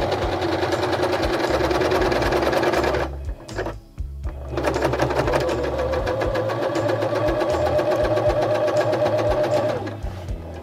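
Sewing machine stitching through the crotch and both side seams of a pair of pants, a loud, steady rapid whir that runs, pauses briefly, then resumes and keeps going.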